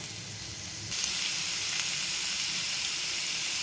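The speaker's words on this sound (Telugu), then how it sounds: "ఇప్పుడు బొప్పాయి కాయలు వేసి వేయించాలి కలుపుకోవాలి" Green papaya pieces fry in a hot pan, giving a loud, steady hiss and sizzle that grows stronger partway through as they are stirred, with no talking over it.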